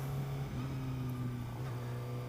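A Suzuki GSX-R600 supersport motorcycle with a titanium exhaust hums along at a steady, low-pitched drone, with a slight shift in pitch partway through, heard fairly faint and continuous.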